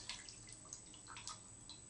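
Water dripping from a wet paper towel squeezed by hand, heard as a handful of faint, close, irregular drips and trickles in a quiet room.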